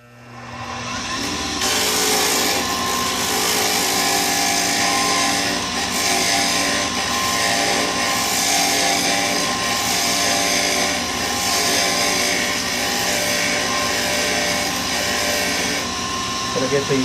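Skew chisel cutting a wooden pen blank spinning on a lathe, a steady scraping, rubbing drone over the motor's constant hum that runs loud and unbroken from start to finish.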